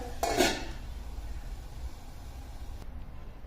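Cooked, softened raw mango karmat is scraped onto a plate with a short clatter of utensil against dish near the start, then only a low steady hiss remains.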